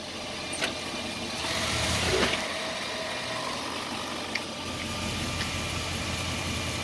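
Jeep with a 45RFE/42RFE automatic transmission that is slipping and showing low line pressure, engine running steadily as the transmission is shifted into drive, a low continuous hum with a faint rise near the start and no talk.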